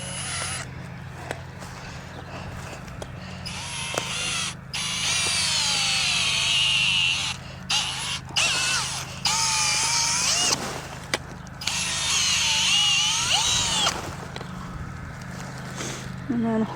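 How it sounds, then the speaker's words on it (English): A power drill whines in several bursts of varying pitch while drilling holes for a tomato garden, close by, with short pauses between and occasional rustling. "I'm gonna try going through and just drilling out the 6 holes for these."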